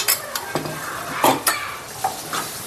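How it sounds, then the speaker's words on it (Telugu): Mutton with ginger paste, salt and turmeric fries in a pan, with a soft sizzle under sharp, repeated spoon scrapes and clanks against the metal at irregular intervals. "ఈ అల్లం పేస్ట్ వేసుకున్న తర్వాత కొంచెం బాగా ఫ్రై చేసుకోవాలండి"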